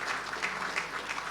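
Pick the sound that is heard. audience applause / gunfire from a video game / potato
audience applause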